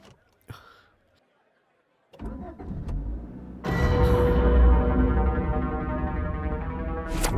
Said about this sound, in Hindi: गाड़ी स्टार्ट हो गई है